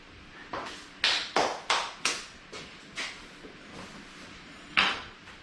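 Pots, pans and utensils being washed and set down in a kitchen while pasta cooks, a series of sharp metallic clanks and knocks in an irregular rhythm, close and clear, with a last loud clatter near the end.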